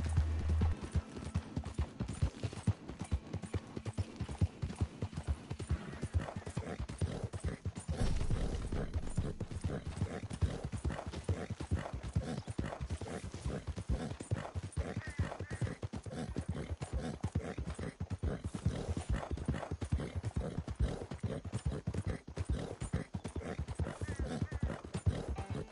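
Horses clip-clop at a steady walking rhythm in Red Dead Redemption 2, hooves close and continuous, with an occasional neigh and game ambience underneath.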